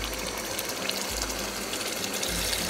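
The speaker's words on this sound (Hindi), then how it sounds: "4 बड़े कप पानी के डालूंगी." Water pours steadily into a cooking pot of beef haleem, a continuous close, even gushing rush with no talk.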